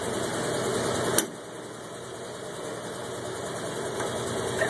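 M38A1 jeep engine running steadily off its own gas tank, close and continuous, with one sharp click early on and no talking.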